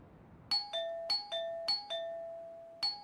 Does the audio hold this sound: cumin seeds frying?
no